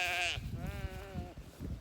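A sheep at a clover pasture lets out one clear, wavering bleat, close by and loud against a low background rumble, followed by a second shorter bleat.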